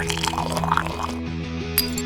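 Water pours into slime powder in a short continuous stream over a steady musical background, with a light clink near the end.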